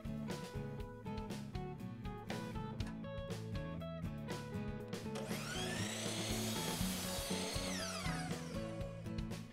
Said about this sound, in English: Use the spacer block to cut both ends of the first piece, flipping it end for end.